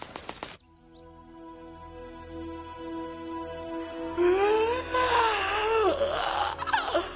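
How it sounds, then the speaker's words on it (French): A long, drawn-out yawn from a woman in an animated series rises into a wavering, moaning tone that grows louder toward the end, following a brief rustle at the start. "Sois plus discrète quand tu bailles"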